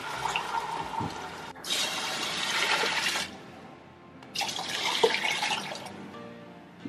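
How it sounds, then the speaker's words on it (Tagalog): Mung beans with water are poured into a cooking pot, making two steady rushing pours of liquid that splash loudly, separated by a short pause. "ilagay na natin yung munggo na may tubig na din"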